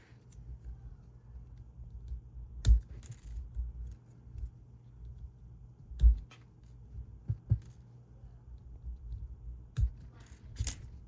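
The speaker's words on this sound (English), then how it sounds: "take wire cutters and cut the feet" Wire cutters snipping the plastic feet off big puzzle cube edge pieces: sharp, isolated clicks a few seconds apart, with a couple of quicker snips close together, near and crisp over faint handling noise.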